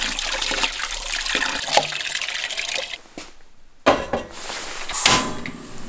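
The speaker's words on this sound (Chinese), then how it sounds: "里边放点白面，再抓洗一遍。" Raw pork intestines are scrubbed by hand in water with flour, giving close, loud sloshing and splashing with wet squelches and brief pauses, no voices present.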